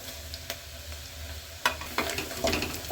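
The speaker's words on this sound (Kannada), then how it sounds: "ಈರುಳ್ಳಿ ಫ್ರೈ ಆಗಿದೆ" Onion frying in a pan for tomato bath gives a close, continuous sizzle, with a few sharp stirring scrapes that pick up toward the end.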